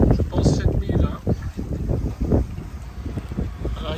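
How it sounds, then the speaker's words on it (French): Irregular wind buffets a sailboat off Alonissos, Greece, a steady rushing roar with gusty low rumble throughout, and a voice speaks over it. "on a du vent irrégulier"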